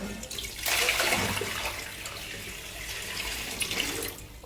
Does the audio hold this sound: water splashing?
yes